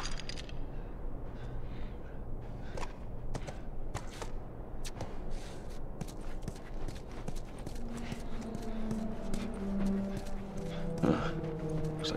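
Horse hooves clip-clop at a steady walking pace in The Last of Us video game, sounding close and continuous throughout over faint ambient background.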